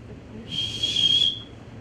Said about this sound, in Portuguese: agora seria o apito inicial